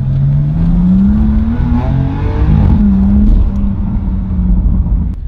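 A BMW M4 CS drives with its exhaust valves open, a loud, continuous engine drone rising and falling in pitch as it accelerates and shifts, close and dominant with no talking.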